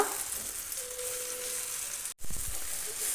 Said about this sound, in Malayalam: ഇനി എല്ലാം കൂടെ ഒന്ന് നന്നായി റോസ്റ്റ് ചെയ്ത് കൊടുക്കുക.